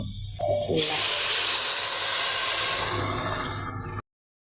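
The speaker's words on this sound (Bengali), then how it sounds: "এখন গরম পানি দিয়ে দেবো" Hot water is poured into a pot of fried rice for khichuri, giving a loud, steady rush and sizzling hiss that lasts about four seconds and then cuts off abruptly.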